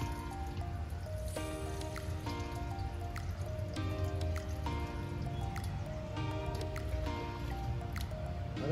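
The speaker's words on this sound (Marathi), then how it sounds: "तर आता हे पाणी टाकतो त्याच्यामध्ये." Temperature-matched water trickles and drips into a betta fish pot, with bubbly, gurgling splashes and small plinks continuing steadily throughout.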